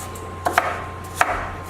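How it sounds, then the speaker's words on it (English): A knife chops onions on a cutting board for a spaghetti dish: a few quiet, separate chops with pauses between them, heard over a low, steady hum. "I'm gonna take the onions and I'm going to cut it out now right now."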